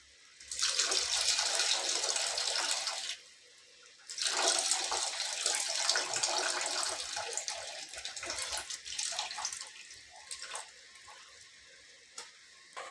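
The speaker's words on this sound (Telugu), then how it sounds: "వాటర్ పోసుకుందాం కొద్దిగా తగినంత వాటర్ పోసుకుందాం" Water is poured into a pan of egg curry in two long, loud rushing pours separated by a short pause, then tapers into softer bubbling and simmering sounds.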